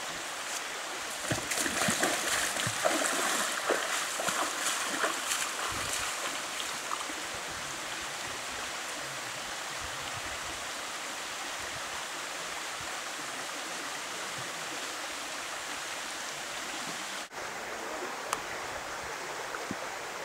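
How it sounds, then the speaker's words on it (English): Water splashes and rushes steadily as someone wades through a shallow stream in Dovedale, with irregular sloshing steps over a constant flowing wash, fairly close and without talk. "I think I've had enough of walking in water now."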